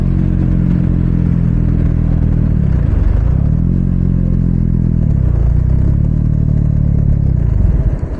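A KTM Duke 250 motorcycle engine knocking while gearing down, a loud, close, rough mid-pitched drone that dips twice as the revs drop and recover, then trails off at the end.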